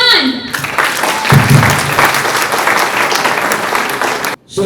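Loud, sustained applause from an audience welcoming motivational speaker Irfan Ali Butt onto the stage, dense clapping over a few seconds with some crowd noise, cutting off abruptly near the end.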